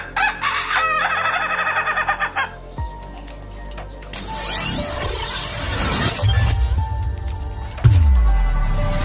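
A laughing rooster (ayam ketawa breed) crows in a long, stuttering, cackling call that rises and trails off, with clattering and rustling noises around it.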